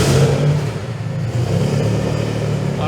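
A watercar engine starts and runs loud and close, rumbling and revving continuously with no pauses.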